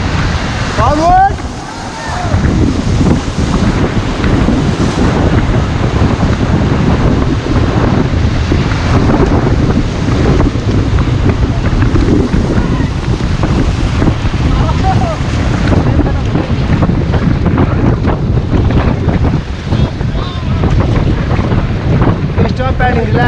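Whitewater rapids on the river at Rishikesh, Uttarakhand, roar loudly and steadily as a raft is paddled through, with wind buffeting the microphone throughout and voices calling out over the rushing water.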